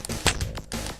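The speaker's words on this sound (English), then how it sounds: "That is the sound of me mashing futilely at the controller" Rapid clicking and clattering of controller buttons pressed in quick bursts, close up, with a brief pause midway before the tapping resumes.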